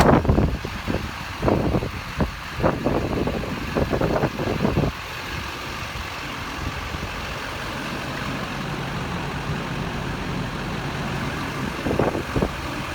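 A 2005 Chevrolet Silverado 3500 two-wheel-drive truck with a Duramax diesel engine idles nearby, at first with a few sharp knocks and bumps over it, then settling into a steady, low, even rumble.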